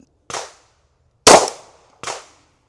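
Three sharp gunshots from a Glock pistol caliber carbine fitted with a Metatactical MX-1, each a crisp, close crack with a short decay, spaced about a second apart, the middle one loudest.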